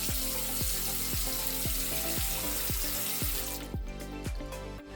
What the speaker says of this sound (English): Let's run some hot water through here, the regular hot water from the sink